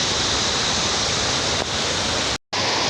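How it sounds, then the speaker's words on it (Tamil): Overflowing lake water rushing over a low causeway bridge, a loud, steady, broadband roar of churning flow up close, continuous apart from a momentary dropout near the end. "தண்ணி பாருங்கள் எவ்வளோ அழகாக வந்து ஆர்ப்பரித்து ஓடி வெளிஞ்சு போயிட்டுருக்குது"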